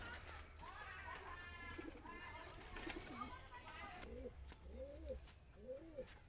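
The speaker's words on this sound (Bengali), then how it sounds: "আরেক জোড়া মাদ্রাসি পায়রা" A pair of Madrasi pigeons for sale in Nabadwip coo in soft, rolling phrases over low background noise, the clearest coos coming in repeated bursts toward the end.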